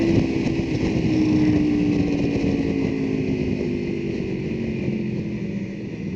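A superbike engine on a track roars loudly as it accelerates hard, the pitch climbing smoothly through the rev range. The sound is close and continuous, with no talking.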